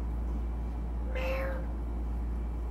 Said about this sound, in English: Lulu, can you give us a meow?